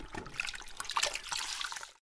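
A biosand filter diffuser being scrubbed in soapy water, with splashing, trickling and sloshing for about two seconds before cutting to silence.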